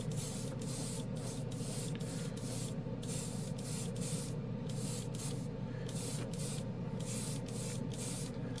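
Alclad chrome paint is sprayed from an airbrush onto a model piece, a steady close hiss with a regular pulsing rhythm, with no one speaking.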